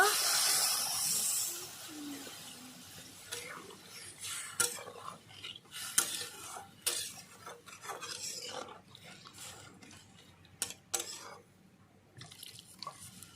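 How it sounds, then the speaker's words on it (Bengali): Raw mango chutney being stirred in a pan, with soft wet scraping and bubbling strokes that come and go, starting with a brief hissy burst before turning quieter and patchy, close but faint, with a little background voice at times. "এক মিনিট ধরে ভালো করে আমি এইভাবে নাড়িয়ে নাড়িয়ে ভালো করে আমটাকে গলিয়ে নেব"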